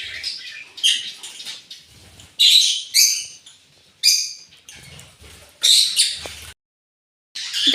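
Lovebirds and their chicks in a breeding box, giving bursts of high, raspy chirps and squeaks in irregular clusters at close range, with short pauses between them.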